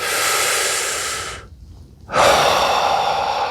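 A long, close breath rushes in loudly, pauses briefly in near silence, then flows out as an equally loud, extended exhale, airy and steady, with no voice over it.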